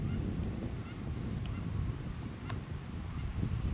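Wild ducks calling and taking off from a frog pond dug at the edge of hillside fields, with faint honking calls over steady low wind rumble outdoors.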